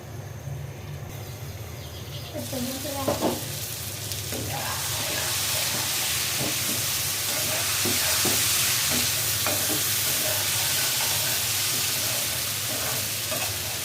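Katla fish pieces fry in oil without water in a covered pan, a continuous sizzle that grows fuller after the first seconds, with a few clinks and scraping stirs along the way.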